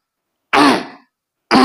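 A person clears their throat twice, close and loud: a harsh rasping burst followed by a pause and the start of a second one.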